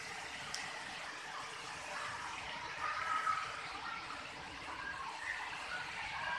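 Waterfall at Pancor Kopong, a steady broadband rush of falling water that holds even and continuous throughout, with no talking.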